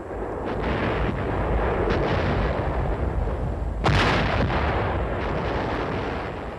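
A heavy artillery barrage rolls on as a dense, continuous rumble of overlapping distant firing, with one sharper, louder blast standing out midway through.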